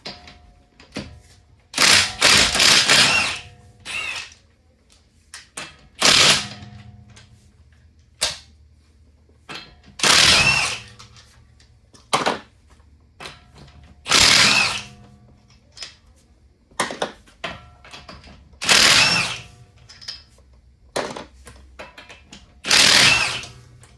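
Impact wrench on a 2006 Honda Pilot 4WD zipping lug nuts off a wheel in a series of loud, sharp bursts, about seven separate runs separated by short pauses and clicks, close up.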